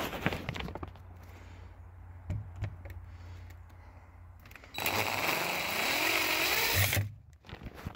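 Long wood screws are driven into a thick piece of wood with a power tool at a snowy bushcraft camp, with a sustained whirring burst of about two seconds after quieter handling noises, close and clear, no speech.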